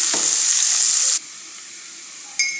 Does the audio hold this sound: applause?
no